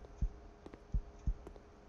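Heartbeat sound effect in a horror video game, three or four deep low thumps spaced about a third of a second apart, faint and alone.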